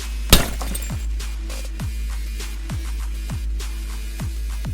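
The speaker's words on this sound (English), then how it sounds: "Breaking a tubolite." A fluorescent tube smashed against car paint protection film gives one sharp, loud shattering crack of glass near the start, followed by a steady hum with faint repeated chirps.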